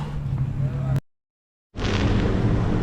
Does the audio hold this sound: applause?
no